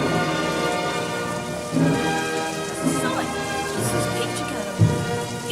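Steady rain falls outdoors in a town street, a dense wash of drops with a few louder thumps, like distant thunder, breaking through.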